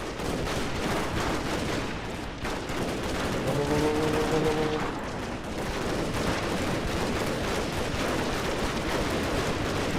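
Gunfire from machine guns in the strategy game Total War: Shogun 2, a dense continuous rattle of shots filling the whole stretch, loud and steady with a brief tonal horn-like call in the middle.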